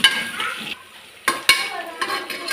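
Onion and rock salt being sautéed and stirred in a pan for rava dosa, with soft sizzling and a few sharp scrapes and clinks of a spoon against the pan, close and fairly quiet.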